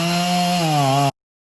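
A chainsaw running at high revs while cutting down a tree, a loud close buzzing whine that holds steady and dips slightly in pitch before cutting off abruptly, with no voices.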